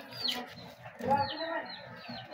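Hen clucking softly near a nesting spot on a Filipino farm, a few short irregular clucks with faint rustling and a brief louder burst midway, no talk.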